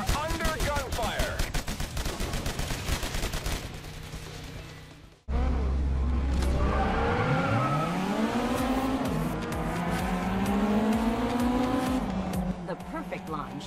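A racing video game on a mini PC, starting with a loud clatter of gunfire-like effects, then a race car engine revving up and down through gear changes with tire squeal, while a narrator's voice talks over it.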